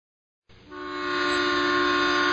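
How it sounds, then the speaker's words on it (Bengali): After a brief silence, a train's loud horn blasts in and holds steady, a sustained tonal blare as the train bears down. "ঠিক সেই সময় ধেয়ে আসে প্রচণ্ড গতির একটি ট্রেন।"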